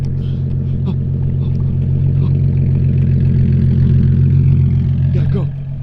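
A Nissan 350Z engine with stock exhaust rumbles steadily at idle, a deep continuous drone with a slight rev toward the end.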